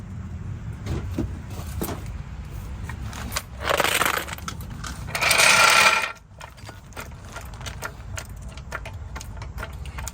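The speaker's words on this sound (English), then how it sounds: "I'm just going to go ahead and fit a regular socket wrench in there." A regular socket wrench ratchets on a Honda Accord during a front lower control arm replacement, heard as two short, loud mechanical bursts close by against a quiet garage background.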